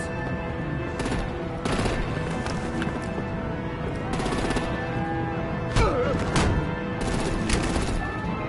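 Gunfire in the Batman: The Enemy Within game, sounding as repeated bursts of shots over a steady background din, with no one talking during the clip.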